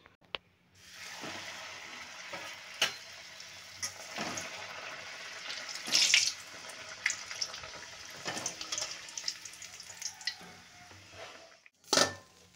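Loud, steady sizzle of food deep-frying in very hot oil, a dense crackling hiss running throughout with sharper spatters and stirring clatters scattered across it, no voices.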